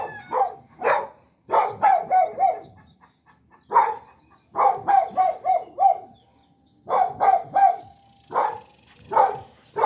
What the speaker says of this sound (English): These dogs are trying to get into the chicken coop.